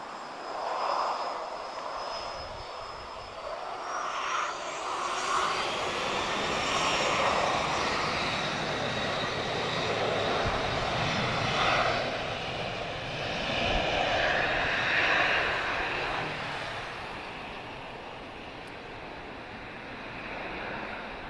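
Aircraft engines whine and roar steadily at an airport during a pushback, a broad continuous rumble with a high tonal whine, fairly loud and close with no talking.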